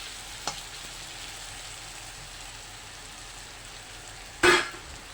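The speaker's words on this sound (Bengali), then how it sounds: "আলু ভাজাটা বসিয়ে দিয়েছি।" Potatoes fry in a pan with a steady low sizzle throughout, broken by a faint tap early on and a louder clatter near the end, with no one talking.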